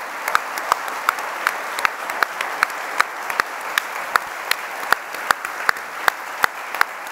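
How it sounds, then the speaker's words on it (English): An audience claps at a Computer History Museum live event about creating the iPhone, steady mid-distance applause with a few sharp individual claps standing out through the whole stretch. "I'd like to applaud everyone here who is a part of it"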